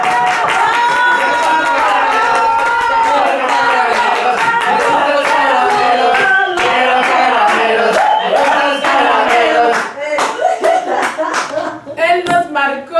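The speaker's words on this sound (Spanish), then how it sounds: "Recibamos con un fuerte aplauso a Pablo Delgado" Applause from an audience welcoming a guest at a storytelling festival talk, dense and steady for about ten seconds before thinning into scattered claps, with crowd voices mixed in.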